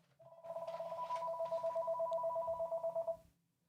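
A real landline house phone rings with an incoming call: one continuous electronic trill lasting about three seconds, clear and close in a quiet room, with no voices over it.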